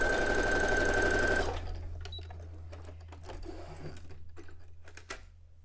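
A sewing machine running a straight stitch at default 2.5 length, a steady loud whir for over a second, then quieter intermittent mechanical clicks and ticking over a low hum.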